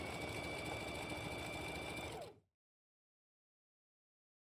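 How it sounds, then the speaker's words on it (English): A sewing machine runs steadily and close by, stitching a seam in stretch fabric with a fast, even whir for about two seconds before it stops and leaves silence. "To sew a straight seam with an overlooking stitch, we can either use an overlooking foot or just stitch close to the raw edge."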